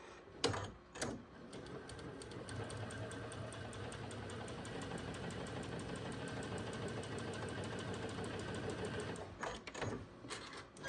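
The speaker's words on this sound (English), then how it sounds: "Now we're just gonna flip this around and we're gonna sew on that diagonal line." A sewing machine runs a continuous close stitch along a diagonal line on a scrappy heart quilt block, holding a steady rhythmic whir for several seconds between short stops at each end.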